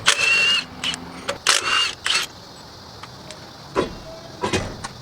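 Short mechanical bursts from a tool unbolting the lug nuts on a trailer tire, a few loud whirring rattles close by, separated by quieter gaps and small clicks.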